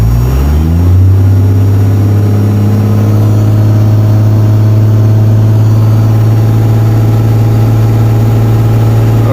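A Cummins 12-valve diesel engine runs steady at 2200 RPM, loud and close, with a deep constant drone that settles after a brief rise in pitch at the start.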